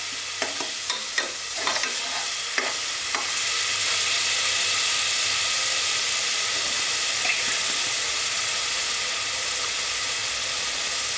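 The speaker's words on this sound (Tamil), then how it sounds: "இது கொஞ்சம் நல்லா பொன்னேரமாக வந்து ஃப்ரை ஆகட்டும்" Ingredients for a mutton kola urundai curry sizzle steadily in a hot pan. A few stirring scrapes and taps come early on, then a constant, loud frying hiss carries on by itself.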